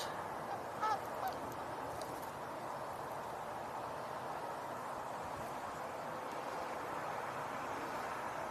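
Canada geese honk faintly in the distance near mallards, a few soft honks early on over a steady outdoor ambience, with no voices.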